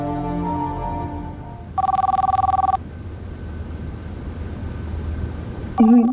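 A telephone rings in one loud electronic burst, followed by quiet room tone, then another ring begins at the very end.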